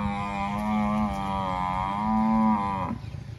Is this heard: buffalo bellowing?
yes